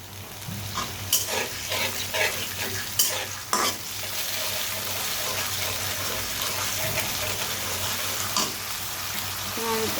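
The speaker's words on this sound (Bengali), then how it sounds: "মশলাটা কষানোর সময় এখান থেকে তেল ছিটবে" Spice paste fries and sizzles in hot oil with a splash of water as a fish curry cooks, giving a steady loud hiss with occasional scraping stirs and clinks.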